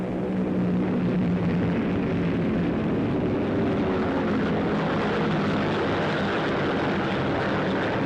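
WWII German Focke-Wulf and Me-109 fighter planes in flight during a 1944 air battle, a continuous loud droning roar of piston engines and propellers filling the whole stretch with no speech.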